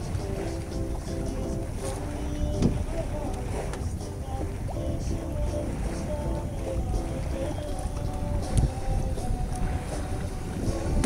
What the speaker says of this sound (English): Probably doing about 5 knots. Looks like we're sailing.